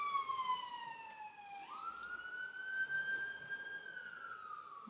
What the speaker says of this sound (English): we've got the fire engines and the police and everything are out today